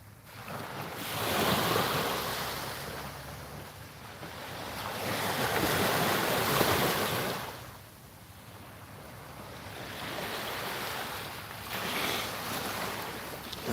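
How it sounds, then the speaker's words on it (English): Ocean waves washing onto a shore under a full moon, a steady roar that swells and recedes in slow surges, heard close with some wind noise on the microphone and no voices. "The sound of those waves put me to sleep every night."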